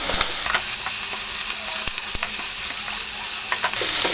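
Chopped garlic sizzles and hisses steadily in hot oil while a spatula stirs it, with scraping clicks scattered through the frying in a chicken curry pan.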